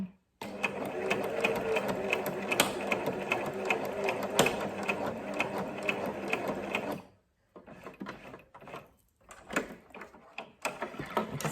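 A sewing machine stitches a fabric face mask, running in a steady fast whir for several seconds, then pausing and restarting in short bursts as it back stitches, close and loud.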